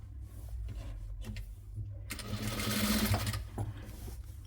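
A sewing machine stitches the neck of a nighty, starting with soft intermittent clicks then breaking into a fast, steady whirring run for about a second before slowing, fairly quiet and close.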